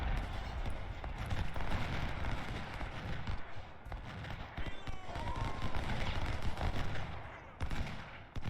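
Musket gunfire on a battlefield in Ultimate General: Civil War, a continuous rolling crackle of volleys with horse hooves and distant battle noise, under faint talk.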